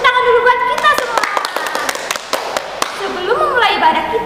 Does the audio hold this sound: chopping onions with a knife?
no